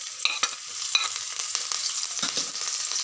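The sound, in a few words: chopped garlic, ginger and chilli frying in hot oil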